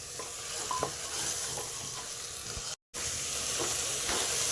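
Dal and bottle gourd sizzling in tempering in a kadhai, a soft, steady hiss with faint stirring taps and a brief gap, no voices.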